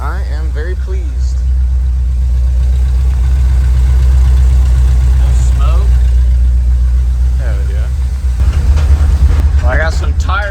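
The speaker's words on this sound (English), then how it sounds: "it's sitting here and idling and everything" A 1978 GMC Jimmy engine idles steadily nearby with a deep, constant rumble, and brief voices come in near the start and end.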